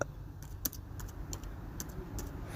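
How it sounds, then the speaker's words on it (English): Slow, one-handed typing on a computer keyboard: sparse, irregular key clicks about two or three per second, close and moderately loud over a low hum, with no talk. "Sorry about my slow typing. I'm actually using a single hand to type now."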